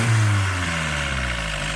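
A Nissan SR20 turbo engine in a Nissan Cefiro A31 rumbles loudly nearby, dropping from a brief rev into a steady, throaty idle.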